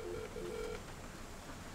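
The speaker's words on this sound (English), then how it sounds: "Come on, answer the phone." Telephone ringback tone repeating in short bursts while a call from a dismasted sailboat in mid-Atlantic waits for an answer, faint over steady background noise.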